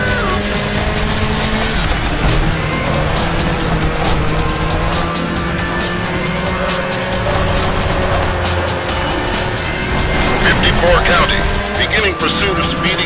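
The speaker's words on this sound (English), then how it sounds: "Vehicle is a black BMW Z8." A black BMW Z8 racing in Need for Speed Hot Pursuit 2, its engine droning steadily at speed with shifting pitch, under a voice talking.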